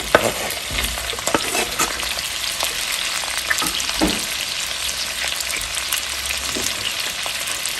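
Diced raw potato fries in a pan with a loud, steady sizzle close up, broken by frequent scraping and stirring clatter throughout.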